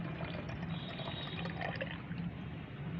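Plain water is poured into liquid plant fertilizer, a steady close splashing and gurgling stream that runs evenly for a few seconds with no voices.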